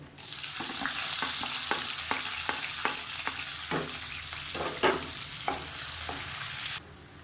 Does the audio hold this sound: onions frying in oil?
yes